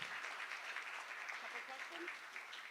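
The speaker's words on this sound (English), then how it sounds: "let's give a round of applause to Scott Bessent" An audience claps after a talk on technology and global macroeconomics. The applause is steady and sustained, fairly distant and soft, with no pause.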